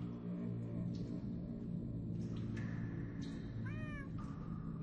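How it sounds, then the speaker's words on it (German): Cats meow in the video game Minecraft Story Mode, several short mews over a steady low rumbling background, and one call near the end is clearer than the rest. "That almost sounds like... Cats?"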